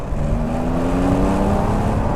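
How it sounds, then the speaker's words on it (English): A Porsche 911 Carrera 4S Cabriolet's exhaust drones steadily from inside the cabin with the top down, a low rumbling tone that holds constant with slight pitch shifts. "when you get the exhaust noise coming in through the cabin with the top down"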